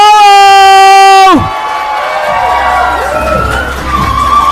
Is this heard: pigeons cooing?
no